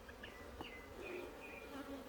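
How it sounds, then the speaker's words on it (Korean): Honeybees swarming out of the hive after a forced colony split, a dense, continuous buzzing hum with individual bees whizzing past close by, steady and moderately loud, with no talking. "오늘 강제 분봉을 했더니 지금 벌들이 다 나와서 난리가 났습니다"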